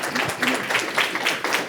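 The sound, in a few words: audience applauding for André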